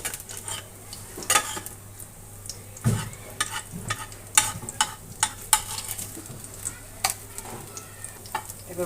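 Wax gourd flower pitha fries in a shallow layer of oil in a pan, crackling with a continuous sizzle broken by sharp clinks and scrapes of a utensil against the pan at irregular intervals.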